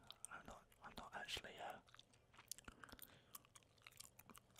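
Close, soft chewing of two strips of Hubba Bubba melon bubble gum, wet and smacky with brief crunchy bites, in a quiet whispery setting with faint breathy sounds between chews.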